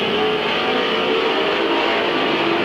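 Race cars at Midvale Speedway roar around the track in a steady, loud, continuous engine drone with a sustained whine, no pauses and no talk.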